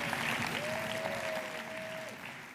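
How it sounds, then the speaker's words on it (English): Steady applause from an audience welcoming a presenter onto a conference stage, a continuous wash of clapping with a brief tonal whistle riding above it. "Give him a round of applause."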